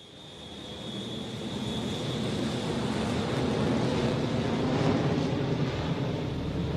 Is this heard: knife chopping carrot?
no